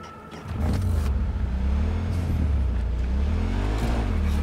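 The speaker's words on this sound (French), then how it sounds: "Une moto qui se pilote tout seul" A self-driving motorcycle in Cyberpunk 2077 rumbles up after a brief quieter start, settling into a steady, loud, close engine drone with slight rises in pitch as it rolls along.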